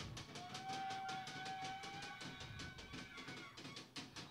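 A referee's whistle at an American football game in Brazil's top league, Rio Preto Weilers against Guarulhos Rhynos, gives one thin, steady blast lasting about a second and a half over constant crowd and field noise.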